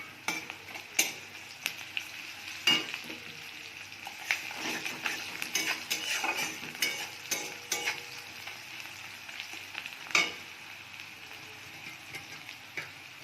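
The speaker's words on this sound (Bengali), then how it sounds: "পেঁয়াজটা লাল লাল হয়ে গেছে, এবার আমি রসুন থেঁতোটা দিয়ে দেব।" Onion and crushed garlic fry in oil with a soft continuous sizzle, while a utensil stirs and scrapes against the pan in irregular clinks and taps, with no talking.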